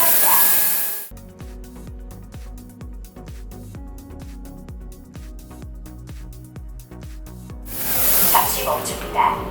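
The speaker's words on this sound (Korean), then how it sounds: "싱크에어 로봇 청소기를 시작합니다." A Thinkair RV50 Pro robot vacuum cleaner runs with a steady mechanical whir and rhythmic brushing pulses for several seconds, starting and stopping abruptly amid louder hissing noise at both ends.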